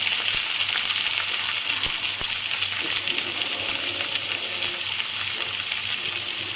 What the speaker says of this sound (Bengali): পেঁয়াজটা হালকা ভাজা হয়েছে যখন,